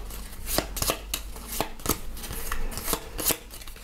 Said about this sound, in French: Je vais mélanger les 3 premières.